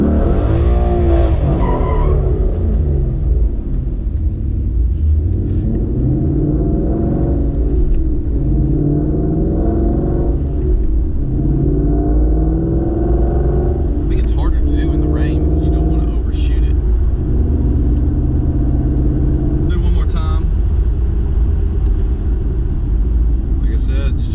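A manual stick-shift car, revved before the clutch is dumped, spins a 180 in the road. Loud, continuous engine roar with tire squeal and skidding throughout, close by, with a voice talking over it.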